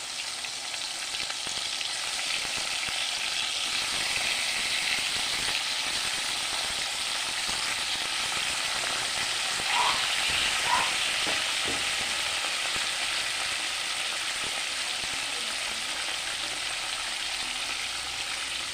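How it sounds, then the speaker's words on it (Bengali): Steady sizzle of pabda fish frying in a pan with tomato and black cumin seeds, a continuous bright crackle with occasional stirring scrapes, close and fairly loud throughout. "টমেটো দিয়ে দিলাম এখন আমি মাছগুলি দিয়ে দেবো"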